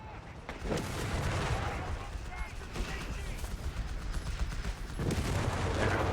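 Battle sounds in Company of Heroes 3, British forces in a 4v4 match: mortar and machine-gun fire roll on throughout as a dense, steady barrage, with heavier thumps near the start and again toward the end.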